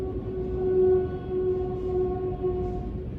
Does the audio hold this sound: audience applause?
no